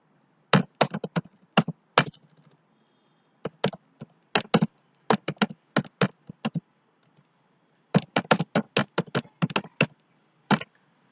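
Clacking keystrokes on a computer keyboard while entering text into an Excel spreadsheet, coming in quick bursts of taps separated by short pauses, close and crisp with no talking.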